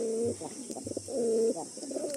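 Close, clear cooing from loft pigeons, several rolling phrases with short pauses between them and a steady background hiss.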